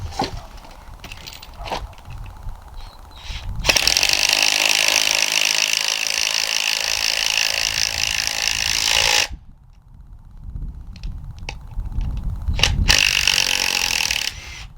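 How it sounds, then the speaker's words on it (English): A repaired 1/4 inch impact driver, fixed with a welder, drives a lag bolt into wood in two loud, steady hammering bursts separated by a brief pause, with lighter handling knocks before and between them. "We're just trying to make sure it still runs a good sized bolt into a piece of wood."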